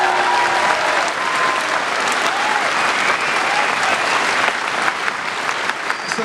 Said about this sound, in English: Can we get a round of applause for everyone?